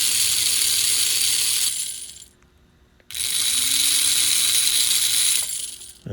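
A Marx prewar toy train motor whirs and clatters with a bright, steady mechanical buzz, stops briefly for about a second, then starts up again and runs on evenly close by.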